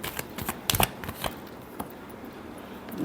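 Tarot cards being shuffled for a reading, a quick run of riffling, crisp snaps and flutters early on that thin out to a few soft taps, close and fairly quiet with no talking.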